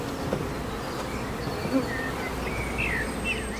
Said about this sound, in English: The bees will never stop in their daily pursuit of food.